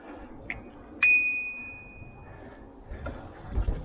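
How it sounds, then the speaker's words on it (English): A bicycle bell on a mountain bike ride in England gives a bright, close ding that rings out and fades, with a smaller tap just before and quiet road noise after. "so I'm keep ringing my bell."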